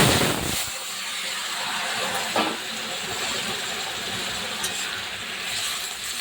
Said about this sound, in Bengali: দেখুন ফোড়ন দিলে তরকারি কি সুন্দর টকবগে একদম ফোটে।